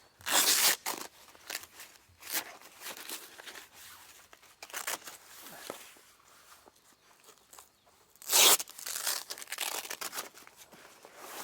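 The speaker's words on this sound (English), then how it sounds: "So me and Cody will quickly fold it out and show you how it works" Fabric of a large custom 180-degree offroad trailer awning being folded out, with bursts of crinkling and rustling canvas, scattered clunks and shuffling footsteps, fairly close and moderately quiet.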